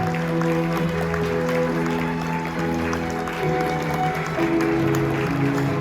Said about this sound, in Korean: 나 여러분 뜨거운 박수로 맞이해 주시죠.